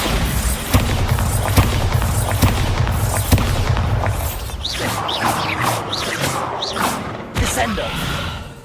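A Bombarda blast spell in the Hogwarts Legacy video game goes off amid loud game effects: thumping booms and bursts over a rumbling bed, then scattered crackling, chiming magical effects, no talk.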